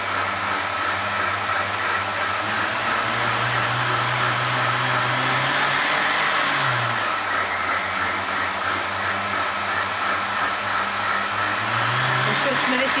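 Vitamix 750 Series or Sage The Boss blender running loud and close, a continuous dense whirring roar with a motor pitch that rises and shifts as the speed increases.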